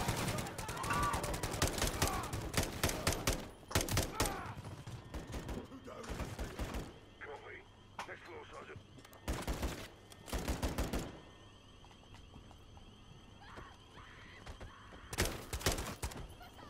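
Bursts of automatic gunfire in the video game Modern Warfare 3, several loud separate volleys spaced across the stretch with quieter gaps between, someone talking at times.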